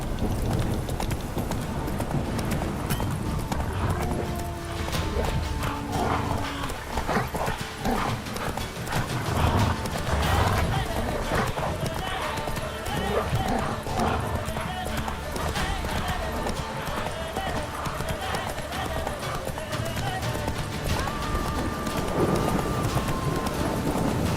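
Roach the horse galloping in the game Witcher 3, with steady rapid hoofbeats pounding across terrain, an occasional snort or whinny, and a faint wind and game music bed throughout.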